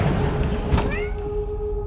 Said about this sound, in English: Is that the cat? I heard it meow.